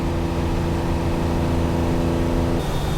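Loud, steady engine drone and road roar inside the cabin of a Ferrari-type car with missing sound deadening and a worn exhaust system needing replacement, continuous and close with no talk.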